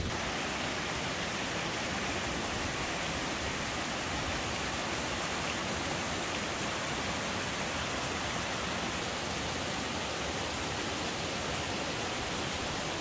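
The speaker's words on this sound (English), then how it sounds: "The outlet stream for Toxaway pours down these cool slabs of rock" Outlet stream of Toxaway Lake in Idaho's Sawtooth Wilderness pouring down rock slabs, a steady, dense, close rush of water that holds unchanged throughout with no voices.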